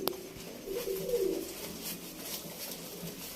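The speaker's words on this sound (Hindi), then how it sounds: "ये कबूतर है हमारा माशाल्लाह।" A pigeon coos close by, a soft throaty rolling call in one short burst near the start, followed by quiet indoor background with faint rustles.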